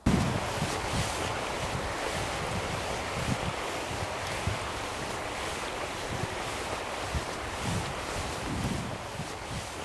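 Waves washing steadily along a river shore, a continuous loud rush of water with wind buffeting the microphone and no voices.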